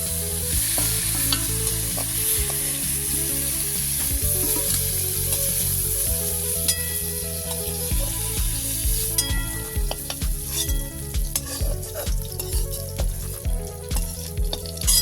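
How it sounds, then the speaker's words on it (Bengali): Cauliflower pieces frying in hot oil, a loud continuous sizzle and crackle with repeated clinks and scrapes of stirring over a steady musical backing. "সমস্ত ফুলকপি আমার ভাজা হয়ে গেল"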